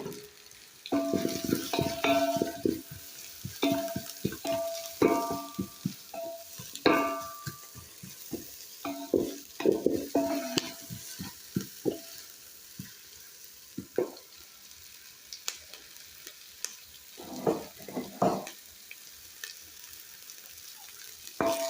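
Onions and green pepper sizzle and crackle in a pan over a village cooking fire, with irregular stirring scrapes and clinks of a utensil against the pan, up close.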